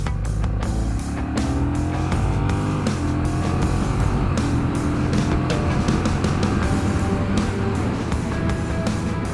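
Honda CMX1100 Rebel DCT motorcycle cruising in second gear, a steady loud engine drone with rising and falling harmonic tones and heavy wind rush throughout.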